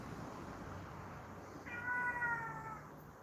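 A single drawn-out cat meow rises clearly but fairly softly over a steady low background hum, lasting about a second before fading out.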